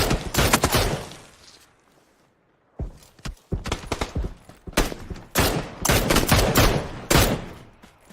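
Video game gunfire in a squad battle royale match comes in loud bursts of rapid shots and crackling volleys, separated by brief lulls, with no speech.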